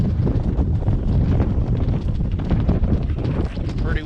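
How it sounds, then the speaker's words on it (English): Strong wind buffets the microphone outdoors, a loud, continuous rumbling roar with gusty flutter throughout. "Pretty windy, huh?"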